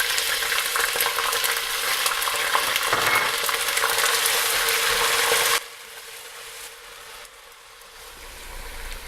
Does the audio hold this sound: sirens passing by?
no